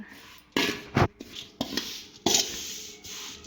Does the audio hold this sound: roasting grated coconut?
yes